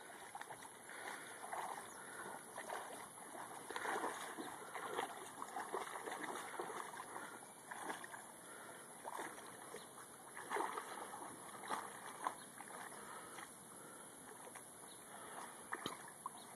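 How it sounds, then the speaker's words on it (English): Creek water splashes and burbles close by, with irregular sloshing bursts over a steady faint hiss, no one talking. "This is the creek behind my house."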